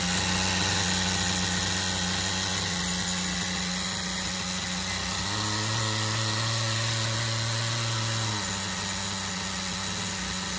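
A rebuilt nitro engine in a Tamiya TGS-R RC car runs steadily at a high, buzzing drone, its pitch shifting briefly midway before settling back.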